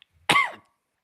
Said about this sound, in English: oh, little cough, little phlegm